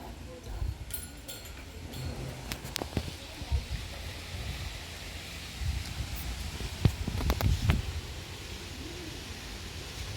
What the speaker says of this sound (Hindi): बाहर कुछ ज़्यादा ही हवा चल रहा है,